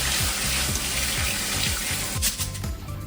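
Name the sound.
tap water running in the sink while rinsing rice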